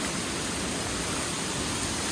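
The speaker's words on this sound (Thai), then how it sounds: "นี่น้ำตก" A waterfall in a rural hometown area gives a steady, dense rushing roar that holds constant throughout, with no voices.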